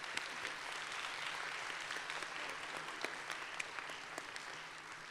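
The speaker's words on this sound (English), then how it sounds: "Can we get a round of applause for our panelists?" Sustained, even applause from a convention audience for a civic engagement panel, a dense field of clapping that holds steady from start to finish with no voices on top.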